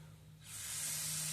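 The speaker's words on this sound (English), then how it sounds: "I'm going to spray off the diaphragm" Aerosol cleaner sprays onto the diaphragm of a Walbro impulse fuel pump from a Tecumseh HH120 engine: after a short quiet moment, a close, steady hiss starts and holds over a low background hum.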